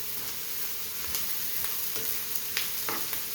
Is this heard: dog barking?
no